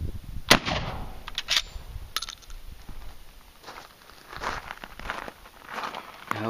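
Shotgun loaded with standard No. 4 buckshot fired at an outdoor range: one sharp, loud report with a fainter crack after it over steady open-air background noise.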